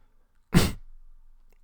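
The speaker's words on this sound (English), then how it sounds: "I thought I heard someone sneeze" One sharp, close sneeze bursts out alone against near silence and fades quickly, followed by quiet.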